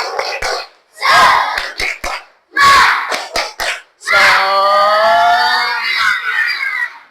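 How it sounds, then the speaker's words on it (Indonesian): A classroom of pupils performs the tepuk semangat clapping chant, bursts of rhythmic group claps alternating with shouted chanted voices, ending in a long sustained group call; loud and close. "Ya, tepuk semangat."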